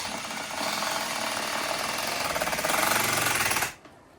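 Power drill boring a pilot hole into cedar wood: a steady, loud, close whirring grind for about three and a half seconds, then cutting off abruptly.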